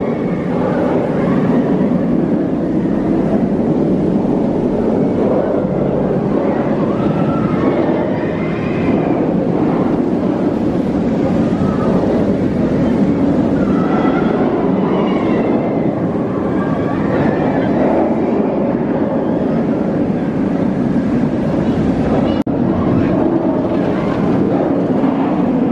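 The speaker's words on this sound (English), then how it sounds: "This is quite a kiddie roller coaster, in my opinion." Steady, loud rumbling and rattling from a roller coaster ride at Alton Towers carries on throughout with constant wind and track roar and no clear pauses.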